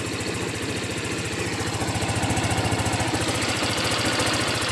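A Seha 150 motorcycle engine idles after a coolant change, a steady close rhythmic chug with a busy mechanical rattle that grows slightly louder and more pulsing midway, with no talk.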